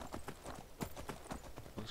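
A horse in a video game clip-clops along at a quick, even gallop, hoofbeats rapid and rhythmic at moderate distance.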